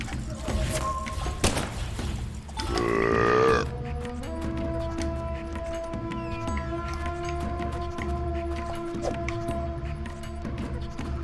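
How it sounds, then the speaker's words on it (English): A burp sound effect from the video game Deadly Premonition 2: a loud, gurgling belch around the middle, preceded by thuds and followed by steady background game music and tones. "did you find any more burp sounds, by the way?"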